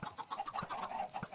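Small Minecraft chickens on an automatic chicken farm cluck in quick, choppy bursts, a steady stream of blocky game clucks with no talking.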